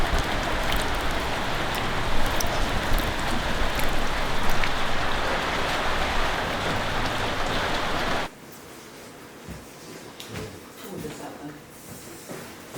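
Steady, loud rain falls around a farm barn for about eight seconds, then suddenly drops to a softer, quieter patter with occasional nearby knocks.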